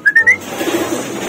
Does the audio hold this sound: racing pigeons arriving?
yes